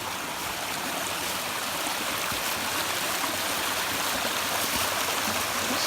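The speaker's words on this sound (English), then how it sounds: "Swirling vortex of water going down" A stream of water swirls down over granite rocks in a New England woodland, a steady, close rushing and gurgling flow that fills the whole stretch without pause.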